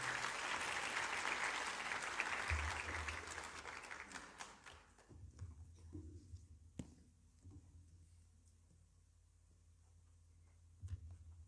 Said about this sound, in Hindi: हम सब तालियों के साथ उनका इस्तकबाल करेंगे।